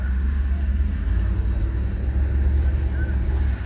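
A car fitted with a 6L80 automatic transmission drives slowly around the block, its engine a steady low rumble with road noise that stays constant from start to finish.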